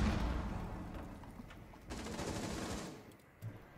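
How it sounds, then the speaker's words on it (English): Gunfire in the Rainbow Six Siege video game, a rapid burst of automatic shots crackling through a noisy mix, loud at first, pausing, then firing again before tapering off. "I'm shooting."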